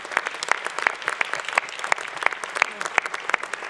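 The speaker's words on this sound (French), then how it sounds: "Oh, vous pouvez applaudir" Audience applause at a New Year wishes ceremony, steady dense clapping from a crowd with sharp individual claps standing out throughout, fairly close and sustained.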